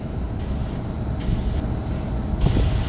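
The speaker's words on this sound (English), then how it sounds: "I got air coming out, excuse me, nitrogen coming from there" Nitrogen hissing steadily out of a needle valve on an LG Multi V heat pump during purging, a loud continuous broadband rush that swells slightly in bursts, with no talking.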